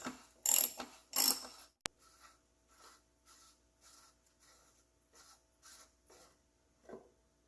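A ratchet with a 24mm socket loosens the plastic oil filter housing on a Dodge Journey, giving a few loud close ratcheting bursts followed by a string of fainter, evenly spaced clicks.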